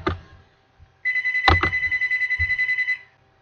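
A telephone rings indoors with one rapid electronic trill lasting about two seconds, loud and close, after a brief thump.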